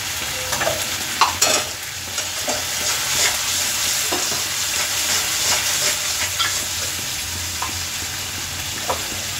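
Curry simmering and sizzling in a pan with turmeric, salt and rinse water added, stirred with a spatula that gives repeated sharp scrapes and clinks over a steady close-up frying hiss.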